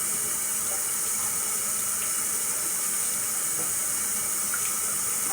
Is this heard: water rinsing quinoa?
yes